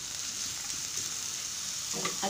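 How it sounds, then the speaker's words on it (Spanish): Cuaresmeño chile and onion sautéing over high heat, a continuous broadband sizzle with a soft stir near the end, close and steady, over a brief stretch. "vamos a subir la lumbre para que se alcance a saltear el chile cuaresmeño con la cebolla"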